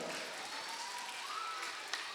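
Audience applause at a Diwali celebration event, a dense, steady wash of many hands clapping throughout, loud and continuous with no talk over it.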